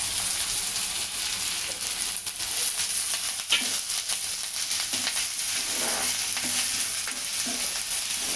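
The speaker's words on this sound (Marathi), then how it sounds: "आता कांदा टाकायचा. कांदा आणि कढीपत्ता दोन्ही मिळून" Sliced onion and curry leaves crackle in two ladles of hot oil for a drumstick aamti, a loud, dense, continuous sizzle with occasional spatters and stirring scrapes.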